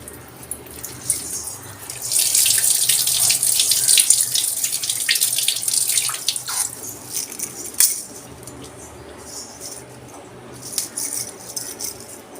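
A silver anklet being washed under a running tap, with water splashing into a sink and the metal links faintly clinking, louder early then easing to a trickle.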